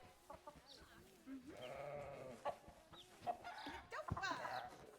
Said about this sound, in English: We also have some baby chicks around somewhere.